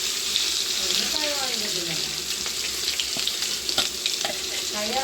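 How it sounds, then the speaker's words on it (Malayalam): Small seer fish (neymeen) frying in a pan, a steady loud hiss and crackle of hot oil running throughout, with faint background voices. "അപ്പോൾ നെയ്മീൻ നല്ല ഫ്രൈ ആക്കാൻ ഇട്ടേക്കാണ്"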